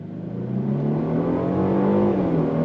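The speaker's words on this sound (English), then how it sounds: "we're gonna go on throttle here, see how she accelerates" A 2025 Genesis G80 3.5T luxury sedan accelerating under throttle, heard from inside as a steady, rising engine drone with a smooth gear shift near the end, fairly loud and continuous.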